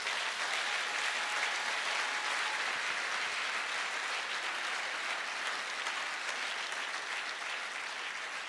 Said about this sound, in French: Acclamons Dieu, acclamons Dieu.